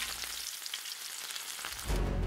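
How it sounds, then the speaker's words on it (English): Steady, bright crackling sizzle of battered Oreos deep frying in hot oil, close and continuous, swelling louder near the end. "just listen to this sizzle."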